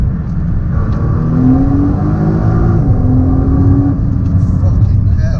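A powerful performance car's exhaust roars loudly and close as the engine revs, a sustained throaty drone with rising tones, with someone talking excitedly over it.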